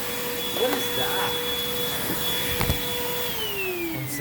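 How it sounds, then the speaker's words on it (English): A vacuum cleaner fitted with a hose runs at a resort, a steady droning whine with a sustained tone that drops in pitch near the end, with a few faint bumps along the way. "So let's get out this tool I brought and vacuum up this with the hose."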